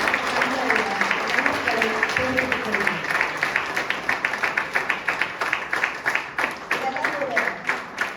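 Rhythmic clapping from a college audience, fairly close and moderately loud, pulsing in quick regular beats over the whole stretch, with voices murmuring underneath early on.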